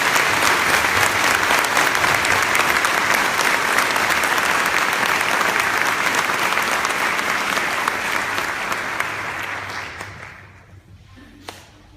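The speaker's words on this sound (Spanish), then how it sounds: "Clamemos con un fuerte aplauso la palabra del Señor." Congregation at a Catholic Mass in Chajarí bursts into strong, sustained applause that fades out after about ten seconds, followed by a faint pause.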